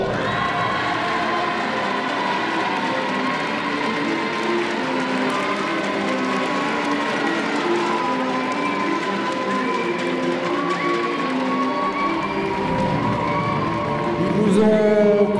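A crowd at a youth tchoukball final applauds and cheers for a team, producing a sustained wash of clapping with shouts and whoops throughout, and louder cheering near the end.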